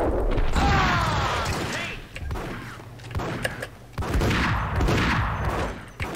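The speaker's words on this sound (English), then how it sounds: "Karıya 4 mermi harcadım ya." Gunfire in the video game Max Payne, with dense bursts of close, loud shots and booming impacts in repeated volleys, overlapping the game's soundtrack and effects.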